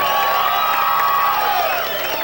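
Crowd cheers and whoops continuously at a 1988 beach surf contest in New Smyrna Beach, greeting surfer Tom Carroll with loud, dense, sustained noise and scattered claps.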